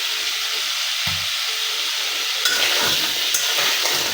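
Crab and shrimp frying with salt and turmeric, giving a loud, steady close sizzle with a few light scrapes and taps from stirring, no voices.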